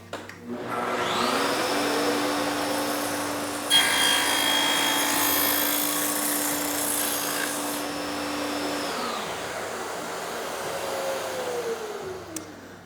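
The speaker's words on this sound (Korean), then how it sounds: "원형 톱날의 높이에 따라서 숫장부의 가공 깊이가 결정이 되는데요." A circular saw cuts a tenon while a SOBIT tenon maker jig carries the workpiece over the blade. The motor whines up steadily, the blade loads into the wood with a sustained ripping roar, then spins down at the end, with no talk.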